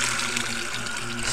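Water used as a stage sound effect at an incidental theatre carnival: a continuous, fairly loud wash of splashing and pouring with no pause and no speech over it.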